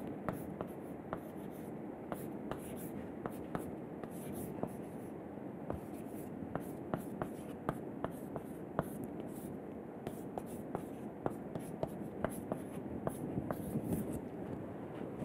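A lecturer writes an equation on a classroom board, chalk or marker tapping and scraping in a steady run of sharp, close strokes over a constant room hiss, with no talking.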